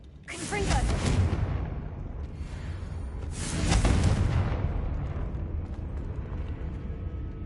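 Confringo blasting spell in Hogwarts Legacy, two deep rumbling fiery explosions a few seconds apart, each a loud booming burst that trails off into a crackling rumble.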